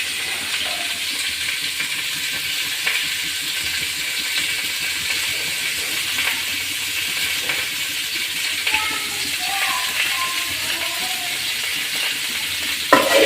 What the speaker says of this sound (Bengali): বন্ধুরা, মূলাগুলো ভাজিয়ে দিয়েছে, উঠিয়ে নেব।